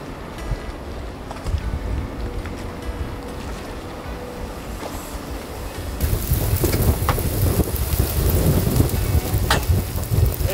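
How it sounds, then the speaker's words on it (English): Rain pattering on a sailboat under restoration in Brazil, a steady broadband hiss that grows noticeably louder and heavier partway through, with scattered drops striking nearby surfaces. "And now that it's raining, and sunny and raining"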